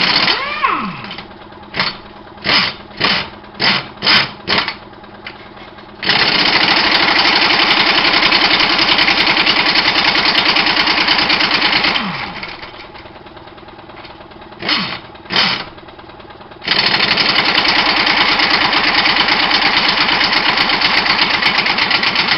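A worn engine, partly torn down, runs unevenly while warming up, with rapid blips of revving that drop away, then long steady stretches of loud, close droning broken by a brief lull.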